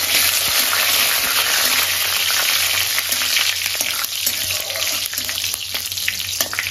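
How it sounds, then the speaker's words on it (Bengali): Whole cumin, garam masala, cinnamon, cloves, cardamom and two bay leaves sizzle in about two spoons of hot oil, a loud, steady crackling fry close by with faint clinks, and no voices. "তাতে গোটা জিরে ফোড়ন হিসাবে দিচ্ছি, গরম মশলা দিচ্ছি, দারচিনি, লবঙ্গ আর এলাচ, 2টো তেজপাতা"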